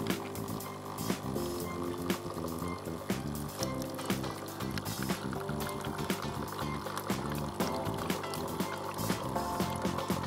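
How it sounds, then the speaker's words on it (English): A Krups NESCAFÉ Dolce Gusto Drop coffee machine running its rinse cycle, hot water pouring steadily into a container with a continuous pump hum and gurgling flow, close and even throughout. "Drop will start rinsing."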